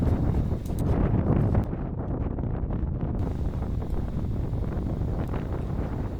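Strong mountain wind buffets the microphone on a backcountry ski route near Kengaminé on Norikura in May, a steady loud roaring rush with gusty swells throughout.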